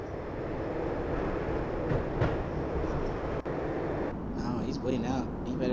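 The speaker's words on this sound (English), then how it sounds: "When the train he was riding slowed down" Train from the 2001 video game Max Payne slowing down, a steady loud rumbling rail roar with clattering texture, continuous throughout and partly under speech-like game voices near the end.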